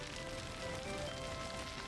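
Steady rain falls in the city-building game Workers & Resources: Soviet Republic, an even, continuous hiss of drops on surfaces with no talking.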